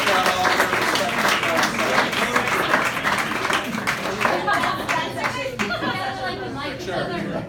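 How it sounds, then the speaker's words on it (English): A room at an awards event claps loudly for the sponsor, crisp close handclaps layered over lively chatter and some laughter, the clapping thinning toward the end while people keep talking. "let's give a round of applause to our sponsor as well"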